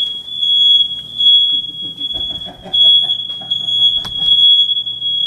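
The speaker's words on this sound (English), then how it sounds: "That was the fire alarms going off." A smoke alarm shrills with a steady high-pitched continuous tone in a kitchen while Philly cheesesteak cups bake, loud and constant across the whole stretch, with faint clatter and voices underneath.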